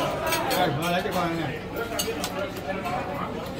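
French fries are tipped out onto a plate with a busy mix of clinks and light clatter of dishes and cutlery. Voices chatter throughout in the background.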